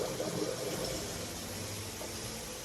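Hot and cold water running from a faucet during a home inspection in Idaho, a steady broadband rush that stays loud and even from start to finish, with no talking.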